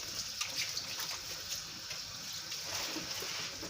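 Tap water runs steadily into a sink as fresh spinach is washed for Nigerian ogbono soup, a continuous close splashing hiss with no talking over it.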